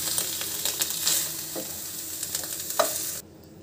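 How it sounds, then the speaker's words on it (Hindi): Dried dates (chhuhara) fry and sizzle in a pan for Eid kimami sewain, with a steady crackle under occasional stirring scrapes and clinks, close by, before the sizzle suddenly cuts down near the end. "मैं इसको अच्छे से फ्राई कर लूँगी"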